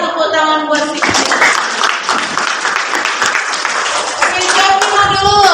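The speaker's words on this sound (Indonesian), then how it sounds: "tepuk tangan buat si" Classroom students break into loud, continuous applause for a classmate during a geometry lesson, dense clapping filling the whole moment with a few voices mixed in at the edges.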